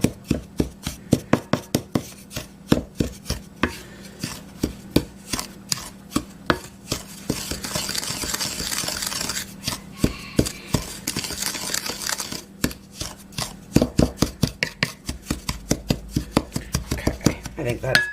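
Food is broken up in a lard-greased cast iron skillet with a utensil, giving a long run of quick, rhythmic metallic taps and scrapes with a brief stretch of softer stirring midway.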